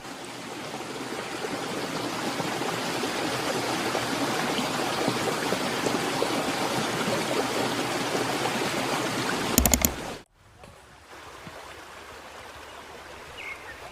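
Flowing stream of the Jacoca creek in forest, a steady close rush of water running for most of the stretch, then a brief loud knock and a drop to quieter, softer trickling.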